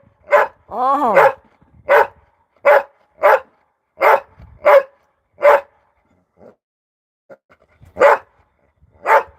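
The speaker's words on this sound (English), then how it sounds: "he's barking at me because he wants me to pick that ball up" Dog barking for a ball during play, a series of about ten sharp, loud single barks at a fairly steady pace with a brief yelping whine early on and a pause before the last two.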